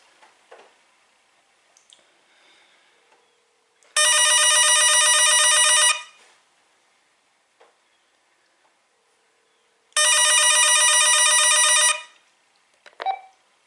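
An AT&T CL4939 corded telephone rings over its speakerphone during a call test; two loud, bright electronic ring bursts of about two seconds each, separated by quiet, with faint clicks of handling at the end.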